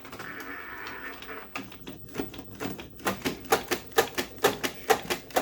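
A sublimation printer starts with a low mechanical whir, then settles into a fast, steady run of sharp clacks and ticks as it feeds a page nearby.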